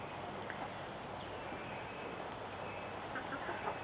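Hens in a 50 by 50 foot backyard pen give soft scattered clucks over a low outdoor background hum, with no talking.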